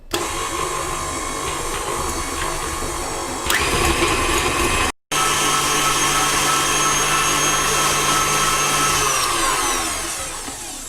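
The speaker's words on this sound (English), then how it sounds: "So let's start whisking it. You need to whisk it until it's creamy and pale in color." An electric mixer with a whisk attachment beats eggs, sugar and butter for a carrot and date cake, a loud steady motor whine that runs continuously with one brief cut midway.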